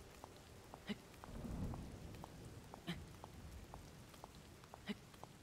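Soft steady rain during a thunderstorm in Zelda: Tears of the Kingdom, with a low rumble of thunder swelling briefly and evenly spaced faint ticks, all quiet and distant.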